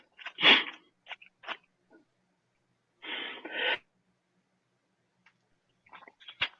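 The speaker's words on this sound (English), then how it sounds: "Sorry, I sneezed." A sharp sneeze bursts out near the start, followed by snorting, sniffling breaths and a longer wheezy exhale, with quiet pauses between.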